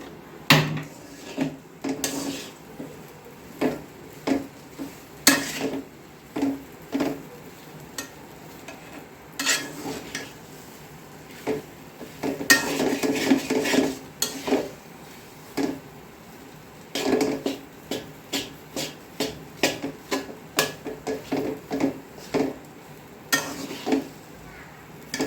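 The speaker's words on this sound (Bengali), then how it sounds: "এই হলো রংপুরের ঐতিহ্যবাহী বাটনা, লোরা বাটনায় করছি।" A traditional Rangpur stone slab and pestle grinds in irregular bursts of scraping and knocking strokes, close and fairly quiet, with short pauses between runs of grinding.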